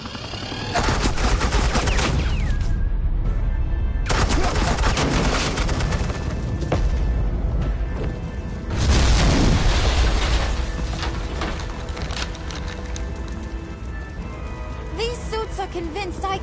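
Sustained bursts of suppressing gunfire from Batman: The Enemy Within, loud and dense with brief pauses, a heavier volley around nine seconds, mixed with game effects and a voice at times.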